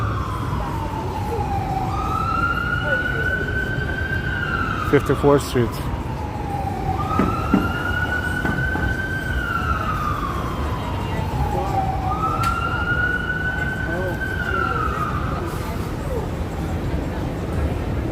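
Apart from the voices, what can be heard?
ambulance siren in Manhattan traffic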